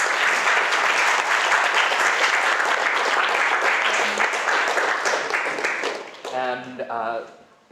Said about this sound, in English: let's give Dr. Sarkar another round of applause.